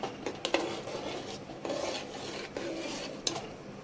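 A spoon scrapes around a pot of Mangalorean-style payasam in repeated rasping strokes with small metallic clinks, close and fairly quiet, with no one speaking.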